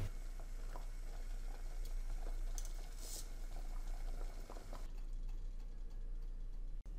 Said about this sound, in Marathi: 4 मिनिटानंतर बटाटे चाळणीत काढून घेऊया, त्यामुळे त्यातील पाणी निथळून जाईल